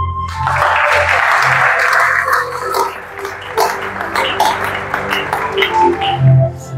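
Church congregation applauding and cheering in acclaim to God, a loud crowd roar with mixed clapping and voices, swelling early then continuing in uneven bursts.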